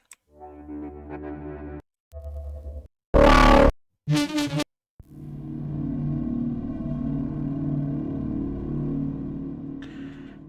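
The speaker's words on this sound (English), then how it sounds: "You'll see that that's one of my favorite pads that I really like." A synthesizer pad played for dungeon synth swells in sustained, dark, droning chords that are broken by short gaps and a couple of brief louder bursts, then settles into a long, steady, reverberant tone.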